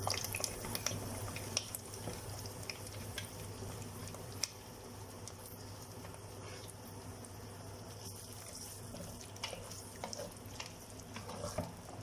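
Onions dropped into hot oil with curry leaves, giving a faint, steady sizzle and light crackle with scattered pops throughout and no voices.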